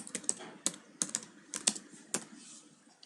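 Keys on a computer keyboard clatter in short, irregular bursts of taps as HTML code is typed, close and fairly quiet, with small pauses between clusters of keystrokes.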